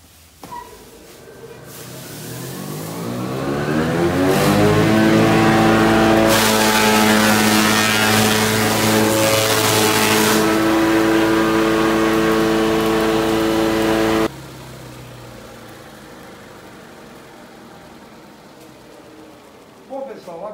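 A small forage grinder for sheep and goat feed spins up with a rising whine, runs loud and steady with a harsh rushing drone, then cuts off sharply and leaves a quieter hum.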